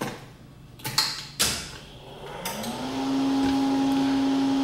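Faulty Z axis motor on a PM727M CNC mill: a few sharp clicks and clunks as it is powered on, then a rising electrical whine settles into a steady, loud hum that persists.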